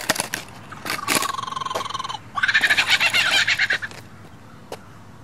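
A lyrebird mimics a kookaburra's call, a loud, close series of rapid cackling, laughing phrases that build into a rhythmic burst before trailing off.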